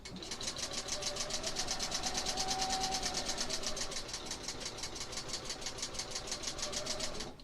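A sewing machine stitches quilt pieces in a steady, fast, continuous run of needle strokes with a low motor hum, close and loud, with no voices.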